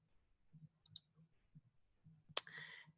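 Typing into the Desmos graphing calculator produces soft, sparse keyboard taps and clicks, faint and close, followed by one sharper click with a short bright ring near the end.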